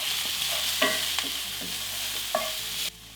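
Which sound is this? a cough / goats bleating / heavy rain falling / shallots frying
shallots frying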